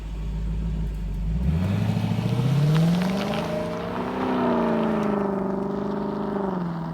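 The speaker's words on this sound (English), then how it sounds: "The 471 horsepower V8 engine sounds spectacular while you're driving" The 471-horsepower V8 of a 2018 Lexus LC 500 revs up, its pitch climbing steadily, then eases off and rises again in a smooth, throaty sweep.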